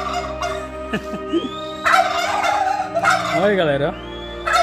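Turkeys gobble back in response to a man imitating their call outdoors in Paragominas, with several loud, rattling gobbles near and mid-distance mixed with his short spoken remarks and imitations.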